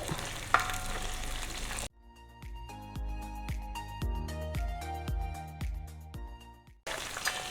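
Curry leaves and green chilies drop into hot oil for a jackfruit chilli dish. There is a burst of crackling and spitting, with sharp pops over a bubbling sizzle. Broader, noisier kitchen sound comes before and after.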